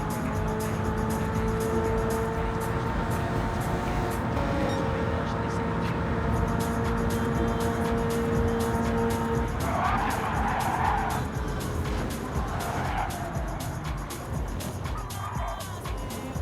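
Racing car in Gran Turismo 7 driving at speed, a steady engine drone underneath with short bursts of tire squeal in the second half, fairly quiet and continuous.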